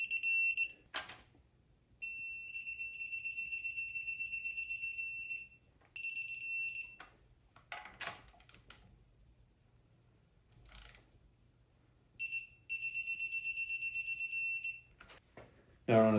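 An electronic torque wrench set to 18 foot-pounds beeps while cover bolts are torqued on an LS3 oil pan install in a BRZ. Long steady tones come in several separate bursts, broken by clicks, clunks and brief talk.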